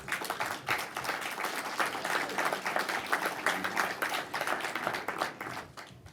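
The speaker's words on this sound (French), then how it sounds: "je pense qu'on peut aussi les en remercier et les applaudir" An audience at a French social and solidarity economy assembly applauds warmly, a dense, steady wash of many hands clapping together for about six seconds before tapering off at the end.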